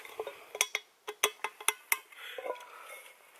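A metal can is punched through to make a hole for a hobo stove cookset, giving a rapid series of about a dozen sharp, ringing metallic taps and clicks, close and distinct over quiet background.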